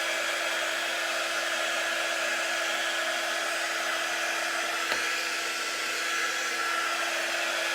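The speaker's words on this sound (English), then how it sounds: "This is our quick dry tool. Doesn't get very hot." A heat tool drones steadily and evenly throughout while warming wax into a wooden leaf cutout, with a constant fan-like whoosh and no talk.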